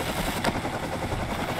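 A helicopter in the Rust video game, a low, continuous rotor and engine drone that is steady and moderately close, with no voices over it.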